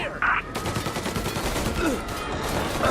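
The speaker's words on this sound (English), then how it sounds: "Gunfire and an explosion reported at the Corleone Hotel." Gunfire bursts and explosion blasts in the video game Mafia Definitive Edition during a hotel shootout, dense rattling shots filling the short stretch at steady loudness with some voice mixed in.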